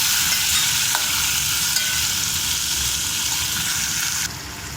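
Tomatoes, curry leaves and onions fry in hot oil, making a loud, dense, continuous sizzle close by that drops off sharply just before the end.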